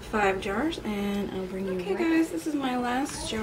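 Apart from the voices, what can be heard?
None of the usual background noises is heard.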